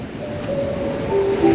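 Sea waves at Belhaven Bay, Scotland, a broad steady wash of surf that swells slightly louder toward the end, with a faint whistling tone and wind noise on the microphone.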